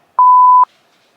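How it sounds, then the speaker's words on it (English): A kitchen timer gives one clear, steady electronic beep lasting about half a second, loud and alone against silence. "there's the timer"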